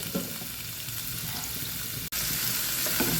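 Chopped shallots, garlic, ginger and tomato sauté in a pan with a steady, moderate sizzle and occasional stirring, briefly interrupted by a momentary cut.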